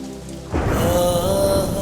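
Rain starts suddenly and keeps falling as a steady, fairly loud patter under a sustained musical tone, with no voices.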